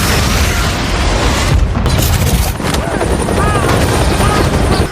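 A building explosion and a helicopter in the Ant-Man movie: a loud, dense roar of rumbling destruction and rotor noise fills the whole stretch, with a brief dip midway and swelling bursts around it.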